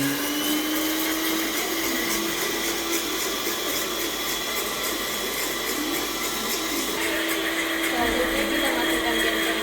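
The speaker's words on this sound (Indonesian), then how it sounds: "Di mixer selama 0 sampai 20 menit." Electric mixer running steadily while blending material that includes bentonite, a constant droning whine with a sustained motor tone, partly under a voice.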